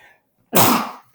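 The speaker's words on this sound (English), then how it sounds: "Hold on, I have to sneeze." A single loud, close sneeze bursts out after a brief quiet moment, a sharp explosive blast that trails off quickly.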